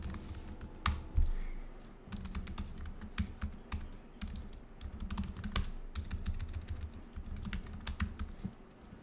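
Rapid typing on a computer keyboard, dense irregular key clicks and clacks at close range, continuing steadily without any talking.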